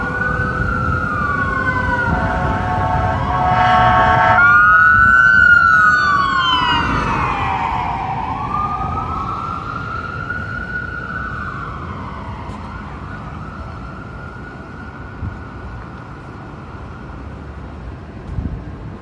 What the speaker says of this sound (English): Oh, we got an ambulance coming.